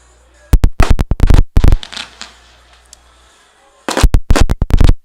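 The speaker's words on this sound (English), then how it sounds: "as we see the lights go off here at Carolina Bank Field as fireworks go off" Fireworks go off at a minor-league baseball stadium, sounding as loud, sharp bursts of rapid crackling pops that come in two clusters separated by a quieter pause.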